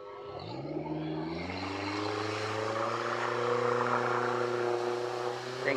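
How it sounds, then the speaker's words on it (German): A motorboat piloted by a monk on a river near a Thai temple, its engine revving up and holding a loud, steady drone that builds slightly as it passes close by. "Mönch im Motorboot."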